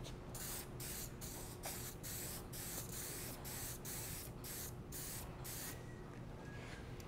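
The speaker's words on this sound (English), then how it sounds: "Spraying." Paint misted from a small bottle sprayer in a steady, close hiss pulsing with regular short breaks as the trigger is worked repeatedly, with no voices.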